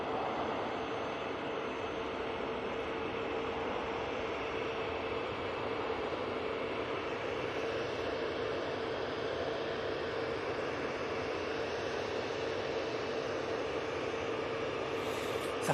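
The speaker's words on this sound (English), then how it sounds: "let's get the heavy just touching down. It's another TUI for you." A heavy TUI airliner touches down at Manchester Airport with a continuous broad roar of engines and rushing air, steady and moderately distant throughout, with no voices.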